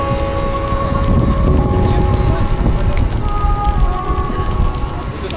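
Wind blowing outdoors in the Carpathian mountains near Yaremche, a loud, continuous roar buffeting the microphone throughout, with some tonal hum mixed in.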